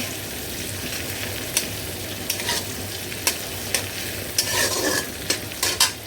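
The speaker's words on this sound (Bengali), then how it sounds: "এখন ওই যে আর একটু ভেজে নিই এই যে চিংড়ি মাছগুলি একটু হলুদ দিয়ে" Shrimp fry with turmeric in a pan, giving a constant crackling sizzle with repeated sharp scrapes and taps of a utensil stirring through them.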